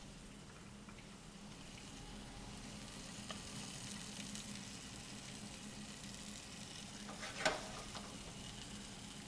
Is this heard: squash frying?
yes